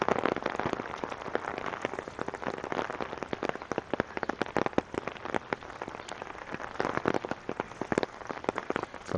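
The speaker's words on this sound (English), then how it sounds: "Just walking in the rain and checking out the flooded streets." Steady rain patters and crackles on an umbrella above a flooded city street in Regina, a dense continuous hiss of drops close by with no voices.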